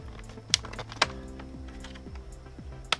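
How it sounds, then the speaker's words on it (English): Plastic tabs on an Asus K50I laptop screen bezel being pried loose, heard as a few sharp clicks and snaps over soft scraping and fiddling, close and quiet. "carefully go around the edge and pry up all the plastic tabs"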